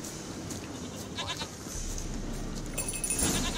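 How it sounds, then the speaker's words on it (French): A goat bleats in the video game The Witcher 3, a few nasal bleats over a soft, steady game ambience. "C'est bon, la chèvre elle"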